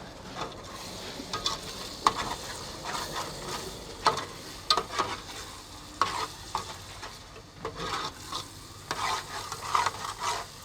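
Liver stir-fried with masala in a pan while cooking inside a truck, with repeated close scrapes and clanks of a spatula stirring over a soft continuous sizzle, and no one speaking.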